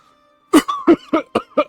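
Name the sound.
coughing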